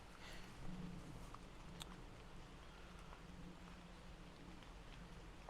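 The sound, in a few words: rain falling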